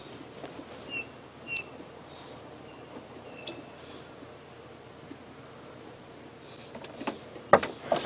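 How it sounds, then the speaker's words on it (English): Birdsong around a safari vehicle in the African bush: a few short, thin chirps and whistles, faint and spread out against a quiet rustling background, with a louder scuffling burst near the end. "the wonderful bird call around us"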